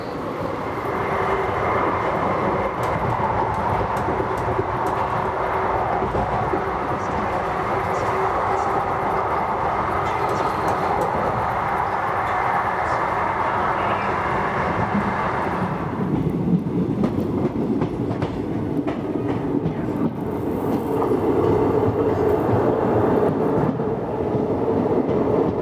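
The 17420 Vasco da Gama–Tirupati Express rolls on rails near Tadipatri with a loud, continuous rumble and wheel clatter throughout. The tone shifts partway through as the train runs on.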